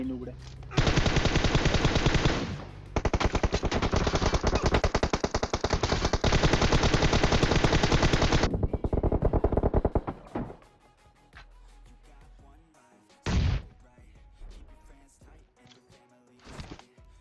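Loud, sustained bursts of rapid automatic gunfire in PUBG Mobile, then a couple of brief later shots, with video-game-style combat sounds.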